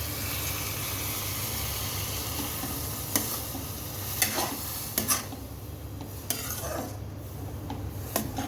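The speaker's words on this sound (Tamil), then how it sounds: "இப்போ இதெல்லாம் நல்லா ஃப்ரை ஆகிடுச்சு" Vegetables with capsicum frying in a pan, a continuous close sizzle broken by several sharp scrapes and clinks of a utensil stirring against the pan, with no voices.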